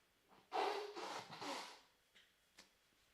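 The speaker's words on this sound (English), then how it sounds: "Blowing my nose yet again." A person blows their nose once in a quiet room: a soft, breathy, sustained blast lasting about a second, then a couple of faint sniffs.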